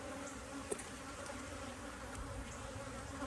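Honey bees hum steadily inside an opened hive full of frames, a close, continuous buzzing drone with no voices.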